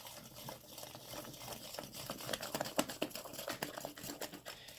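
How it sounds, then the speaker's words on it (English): Batter for strawberry quick bread being whisked briskly by hand in a bowl, a soft, quick run of scraping, clicking strokes that grows busier and louder midway, with no talk. "you want to whisk it a little more briskly, at least for a little while"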